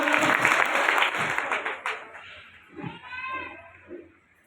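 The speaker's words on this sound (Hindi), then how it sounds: "मेरी टीम के सम्मान में जोरदार तालियां हो जाए साथियों, जोरदार तालियां" Brief burst of applause from an audience at a speech honouring the speaker's team, loud at first and then fading within about two seconds, followed by scattered voices and noise.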